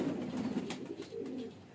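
Highflyer baby pigeons of the Uday (kasni) line coo softly in low, throaty murmurs, several overlapping calls close by with a faint background hiss.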